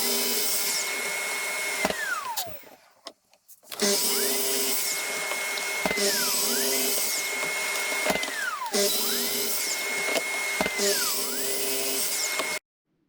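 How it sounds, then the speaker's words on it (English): A chop saw cuts hardwood pieces to final length in a workshop, three cuts in a row: each time the motor whines up, the blade screams through the wood, then winds down, with a brief pause between the first and second cuts. "now we use the chop saw to cut them to the final length"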